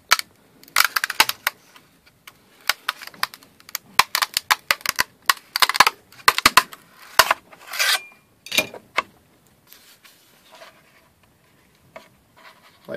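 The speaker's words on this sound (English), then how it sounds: "I'll start working the spatula underneath it." A metal spatula pries a finished 3D print, a fractal pyramid, off a glass print bed. It gives a run of sharp irregular clicks, snaps and scraping cracks, sometimes in quick bursts, then sparser pops toward the end. No one speaks.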